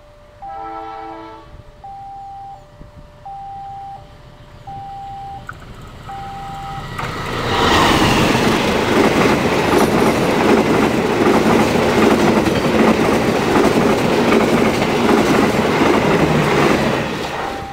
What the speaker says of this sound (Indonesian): Awas Pak ada kereta jangan terobos. Ini kereta barang.